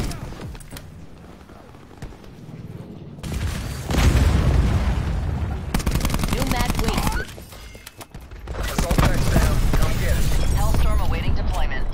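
Cluster grenade blasts in a fast-paced shooter game, heavy booming bursts in two loud stretches with rapid crackling detonations, surrounded by game voices and chatter.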